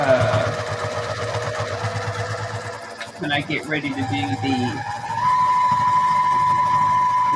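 A sewing machine stitches faux leather with a steady, close whirring drone. The drone breaks into choppy bursts midway and then resumes at a higher, even pitch.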